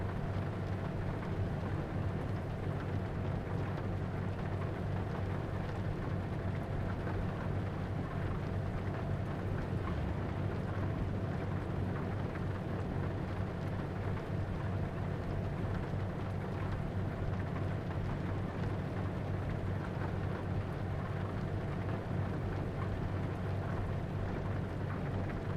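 Steady rain with low thunder rumbling throughout, heard in Euro Truck Simulator 2 on a truck drive from Lublin toward Spain, a continuous, dense wash of rainfall with a deep background roll.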